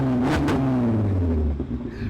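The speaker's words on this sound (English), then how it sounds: "the car sounds amazing" A VW Golf R32 MK5 Stage 2 with a loud exhaust revs up hard and accelerates, its tone sliding down as it pulls away, loud and close with a rumbling exhaust.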